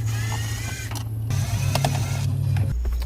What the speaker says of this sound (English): we have two Phillips head screws, one on each side. Both of those have to come out.